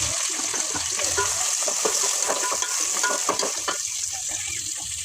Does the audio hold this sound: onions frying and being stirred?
yes